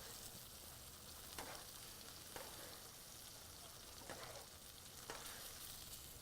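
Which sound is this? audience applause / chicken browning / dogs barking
chicken browning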